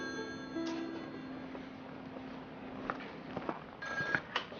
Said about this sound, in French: Ah, mon téléphone, c'est pour vous.